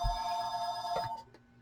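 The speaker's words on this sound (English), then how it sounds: "Sorry for the phone. It just loves to ring when I'm on here." A telephone rings steadily indoors in a crafting workspace, a sustained electronic bell tone that cuts off near the end.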